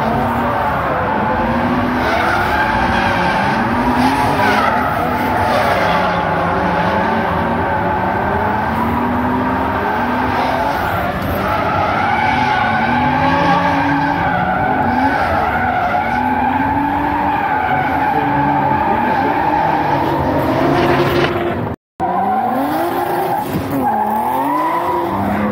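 Drift cars skid through a top-16 tandem run at a drift season-opening event, tires squealing continuously with rising and falling engine whine, loud and close throughout, with a short dropout near the end.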